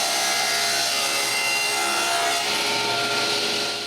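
A wood panel is sawn at a set angle guided by a miter gauge, a steady loud rasping cut that runs continuously without pause over a low machine hum.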